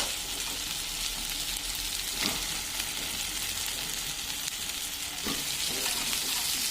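Meat goes into spiced oil in a home cooking pot, producing a loud continuous sizzle and crackle with a few stirring scrapes, close up and without talk.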